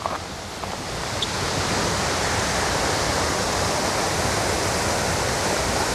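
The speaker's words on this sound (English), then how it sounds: "It's a very gorgeous waterfall." A rain-swollen waterfall near the Susquehanna River roars in a steady, broad, continuous rush close by, with no talking.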